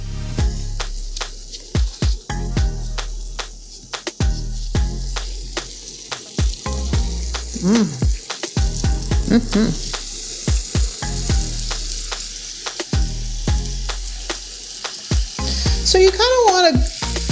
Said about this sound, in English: there's the sizzle of the bacon.